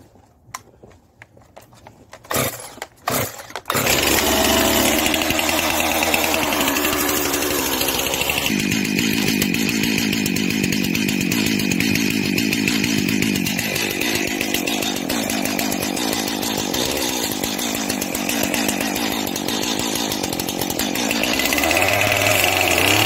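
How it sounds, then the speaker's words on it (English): A few sharp pulls and sputters, then a Stihl chainsaw roars to life and runs loud and steady, its pitch shifting as it bites into firewood. "fire up the chainsaw and show you how it works"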